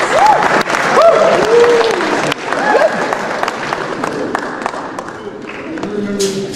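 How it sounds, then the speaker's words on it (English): Audience applause and clapping follow a martial arts demonstration in a high school setting, with voices and tonal sounds running over the clapping throughout. "Give him a round of applause."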